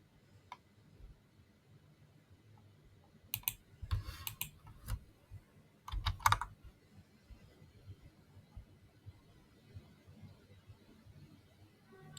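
Computer keyboard keys tapped and a mouse clicked while working in a web application, with faint sparse clicks and two short bursts of quick taps midway, fairly close and without talk.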